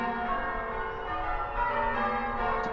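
A church bell rung by a team of bell ringers hums steadily and loudly throughout, its layered, lingering tones overlapping with no pause and no voices.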